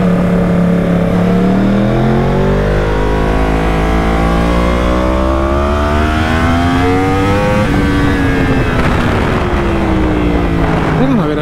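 A Yamaha R1 superbike engine revs hard and close, its pitch climbing in sustained sweeps, dropping back, then surging again, with a voice underneath.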